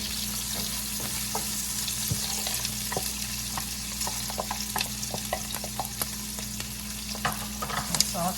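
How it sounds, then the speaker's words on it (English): Chopped onion sizzles steadily in a hot pan, cooking for Panamanian arroz con pollo, with frequent small scraping clicks from stirring layered over the continuous close hiss, and no voices. "Saute all this together."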